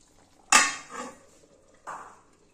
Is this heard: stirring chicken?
yes